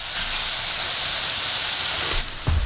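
Onions and chestnut mushrooms frying in a pan for a tofu scramble give a loud, continuous, close-up hiss. It cuts off abruptly near the end, followed by a brief low thump.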